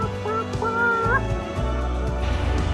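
A person imitates a chicken with a voice, producing a run of squawky, warbling clucks that rise and fall, loud and close, with no other talk.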